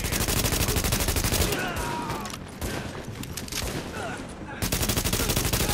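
Rapid automatic gunfire in The Division video game rattles almost continuously, loud and close, with a brief lull mid-way before the bursts resume; players talk faintly underneath.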